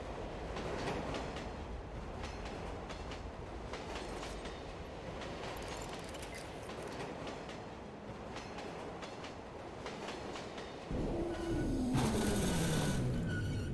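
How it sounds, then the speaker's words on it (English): A train pulls away in the video game Watch Dogs Bad Blood, a steady rumble of rolling wheels and carriage clatter, then rising metallic squeals and a louder roar toward the end. "Yeah, they shoot you a bit because as the train drives off"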